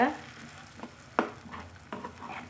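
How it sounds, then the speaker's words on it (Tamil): Drumstick mixture being sautéed in a pan, a soft low sizzle punctuated by three or four distinct scraping stirs of a spatula, quiet and close. "நல்லா வதக்கி எடுத்துக்கலாங்க"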